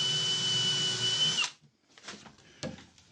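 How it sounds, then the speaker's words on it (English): A power drill whirs steadily at close range for over a second, driving a screw flush into wood, then stops, followed by a few quiet clicks and knocks. "Let's try to screw in until it comes up flush."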